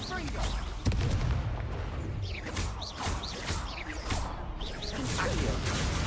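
Explosive Confringo spell cast in Hogwarts Legacy combat: dense, layered blasts, booms and whooshing bursts crowd together almost continuously, loud and close, with a voice-like layer in the mix.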